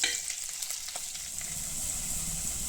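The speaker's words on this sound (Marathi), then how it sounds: "गोल्डन ब्राऊन होईपर्यंत कांदे होऊ द्या त्याला छान" Onions frying in a tempering of oil with coconut slices until golden brown, a soft, even sizzle with light stirring ticks, fairly quiet and without speech.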